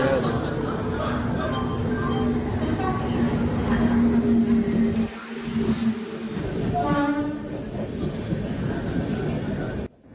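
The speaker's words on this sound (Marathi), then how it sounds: "ट्रेन प्लॅटफॉर्म आले तरी पण हिचं काय स्पीड कमी आहे ना" A train pulls slowly into a crowded station platform on the way to Surat, its loud steady rumble and wheel noise filling the air while people's voices carry underneath before it fades near the end.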